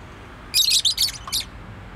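A pet bird gives a quick burst of bright, high chirps, loud and close, lasting under a second with one short note after it, and no one speaks.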